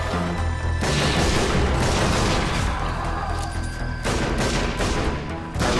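Gunfire and explosions from the video game Sniper Elite Nazi Zombie Army, dense and loud with repeated booming bursts and crashes, nearly continuous throughout.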